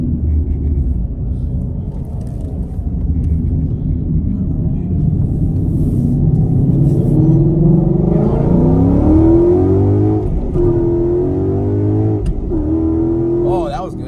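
A lowered 2018 Mustang GT rumbles and then accelerates hard, its engine note climbing in pitch over several seconds at close range, with people talking over it.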